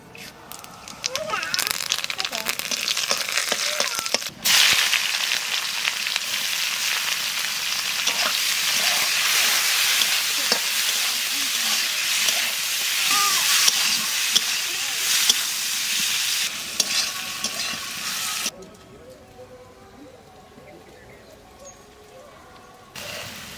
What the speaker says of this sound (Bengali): তেলের পর দিয়ে দেবো জিরে আর তেজপাতা।